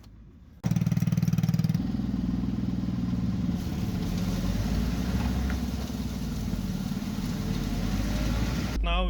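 A road salting truck's engine runs steadily at night, a loud constant drone with rattling clatter that starts abruptly and holds for several seconds.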